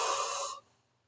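One person yawns with a breathy, airy exhale that rises briefly, then cuts off into near silence; close, quiet and without talk.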